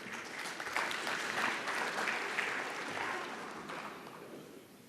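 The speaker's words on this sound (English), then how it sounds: "Round of applause" Audience applause at a Namibian public-private forum, a steady broad wash of many hands clapping that swells early and tapers off toward the end, with no voices over it.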